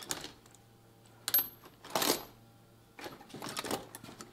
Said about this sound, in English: we're just gonna scrape off some of the carbon that's on here